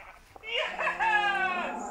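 A single burst of clucking, warbling chicken calls in Minecraft, close and fairly loud, after a brief click; synthetic-sounding with no other sound around it.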